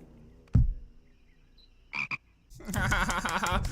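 A few scattered croaks break a quiet background, then a longer burst of raspy, rhythmic frog croaking rises and continues, fairly close.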